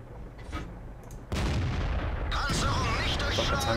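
A tank cannon fires in World of Tanks with one sudden loud blast, followed by sustained rumbling and crackling battle noise.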